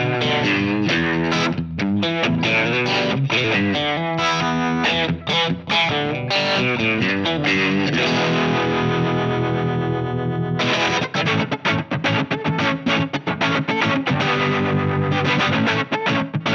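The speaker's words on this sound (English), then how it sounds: "Up next is the harmonic tremolo." Electric guitar played through the harmonic tremolo section of a Keeley Hydra reverb and tremolo pedal, sustained chords pulsing with a steady throbbing wobble, loud and close, no voices.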